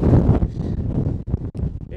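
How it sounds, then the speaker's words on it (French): Mistral wind blows hard on a cliffside mountain trail at Mont Gibaou in southern France, loud gusty roaring and buffeting against the microphone that swells and drops over two seconds, with no voices. "Là, on a le Mistral qui s'est levé. C'est ça aussi le sud, beaucoup de vent."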